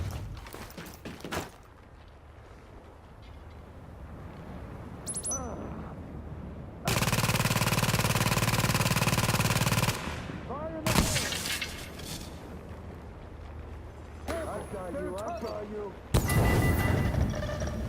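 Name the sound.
gunfire in a gunfight, from the video game The Division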